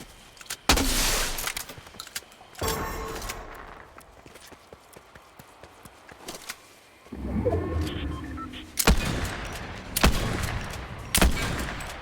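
Sharp bursts of Fortnite gunfire, a few spaced shots and short volleys, loud and close, with mechanical clattering in between.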